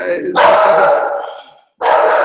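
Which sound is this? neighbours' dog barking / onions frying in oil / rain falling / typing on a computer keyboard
neighbours' dog barking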